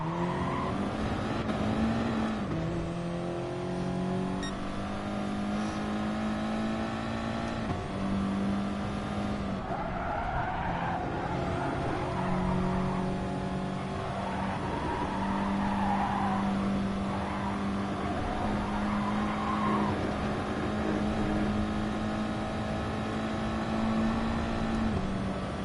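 A Dodge Viper race car in GT Sport roars steadily through a long lap, its engine note rising and falling through gear changes and corners, loud and continuous with no talk.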